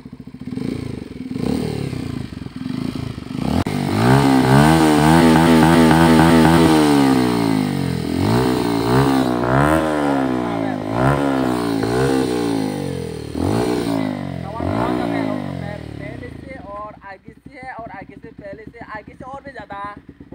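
Motorcycle fitted with a new Akrapovic exhaust revs loudly nearby for about twenty seconds, its engine note climbing and falling through several blips before settling to a rough idle.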